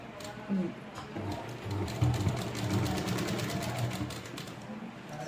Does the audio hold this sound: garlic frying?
no